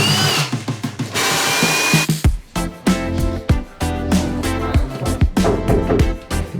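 A power drill runs in reverse while a bathroom vanity unit is fitted, with several short whirring bursts of varying length, close and loud, and brief knocks between them.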